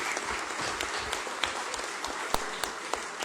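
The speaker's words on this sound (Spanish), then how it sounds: "Un aplauso más bien por eso" Audience applause at a book presentation on constitutional procedural law, a dense, fairly faint wash of clapping from a seated crowd in a hall, with occasional sharper claps.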